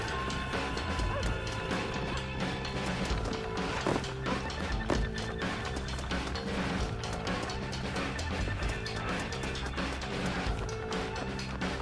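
Horse hooves clopping alongside neighing in the game Red Dead Redemption, mixed with crashes and thuds in a busy, dense soundscape, with no clear talk.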